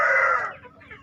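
A small speckled babon hen gives a brief, close cluck-like call that fades quickly into quiet.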